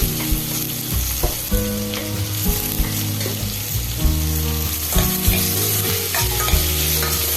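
Tomatoes frying in a pan for ghugni, a loud close sizzle throughout with repeated stirring scrapes and clatter from the utensil, no voices.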